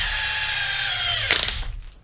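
A Makita DWT285 impact wrench whirs steadily, then breaks into a rapid, rattling burst of hammering before winding down, close and loud with no talk.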